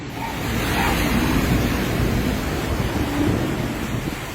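Heavy rain with strong wind gusts in Baguio City makes a loud, dense roar that holds steady and close for several seconds, with no voices over it.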